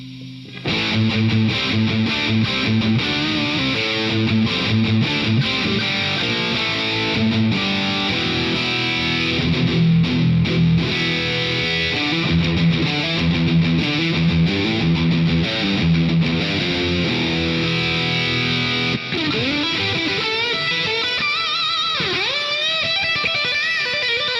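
A loud, heavily distorted electric guitar played through a virtual amp preset plays chords and riffs continuously, with a steady hiss underneath, then trails off into ringing notes.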